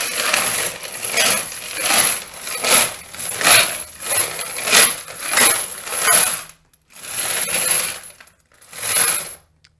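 Brass cartridge casings churn loudly in a cleaning tumbler, a harsh metallic rattle that swells and fades in steady waves, drops out briefly, then resumes for two more surges.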